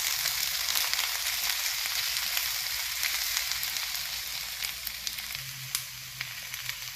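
Garlic, peppercorns and chili flakes sizzle steadily in hot oil for a Szechuan cabbage stir fry, a loud, close, continuous crackle with scattered pops, softening slightly toward the end.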